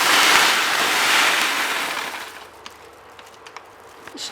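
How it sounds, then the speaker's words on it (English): Dry Rice Krispies cereal poured into a pot of melted marshmallows: a steady rushing hiss for about two and a half seconds, then softer scattered crackles and ticks as the flow stops. "Pour the Rice Krispie Treats in."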